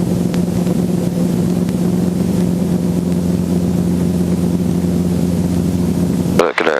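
A helicopter making a normal takeoff during flight training gives a loud, steady droning hum with strong engine harmonics, holding constant close up until it cuts off abruptly at the end.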